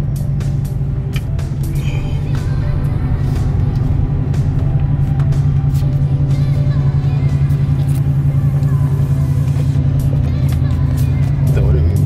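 Chevrolet C7 Corvette Stingray with a manual gearbox cruising in fourth gear, a loud steady low engine drone and road rumble throughout, with no talking.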